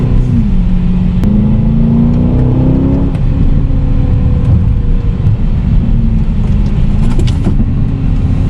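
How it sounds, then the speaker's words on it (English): A 2021 Aston Martin DBX SUV, a 5,000-pound vehicle, downshifting on the road, its engine drone loud and steady with a few brief exhaust pops breaking through the continuous rumble. "Oh, there goes some of the pops, some of the exhaust pops on that downshift."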